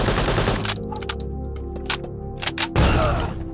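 Loud blasts and gunfire rattle through an Arma 3 close-quarters fight as fragmentation grenades go off, a dense burst at the start, scattered sharp reports in the middle, and another heavy boom near the end.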